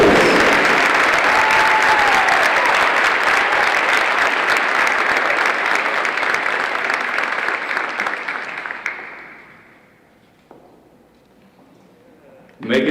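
An audience at a school Mr. and Miss pageant gives loud, sustained applause for the finalists and winners, which holds steady for about nine seconds, then fades away, with a brief burst returning at the end.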